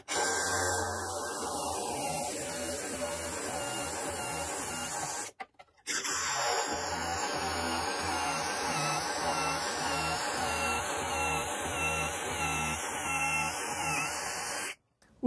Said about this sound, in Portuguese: agora é só fazer a furação